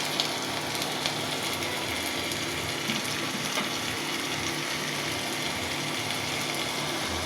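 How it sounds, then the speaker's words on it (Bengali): Pangas fish fried in a pan with spices gives a steady, dense sizzle with occasional crackles and faint clicks, even and continuous for several seconds with no speech. "আমার মাছটা ভাজা হয়ে গেল।"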